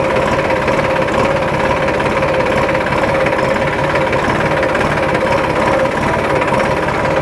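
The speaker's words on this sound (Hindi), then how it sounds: "लगभग इतनी जगह में ट्रैक्टर जो है वो टर्न ले लेता है" Massey Ferguson 254 DynaTrack tractor engine running steadily at close range while the tractor turns, a loud continuous diesel drone with rattling vibration and no talk.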